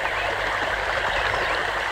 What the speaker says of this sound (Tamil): வாய்க்கால இவ்வளவு தண்ணி போகுது